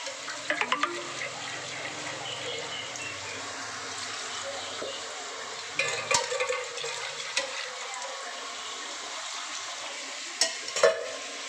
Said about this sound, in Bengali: ভালো করে নাড়বো, ভালো করে কষবো